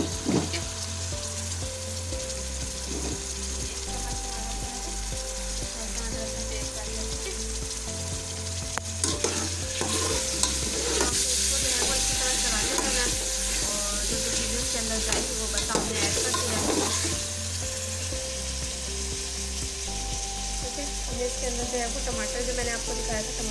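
Ginger and garlic frying in a pan for shaljam gosht, a steady close sizzle and crackle running throughout with stirring scrapes, under a musical background and someone talking.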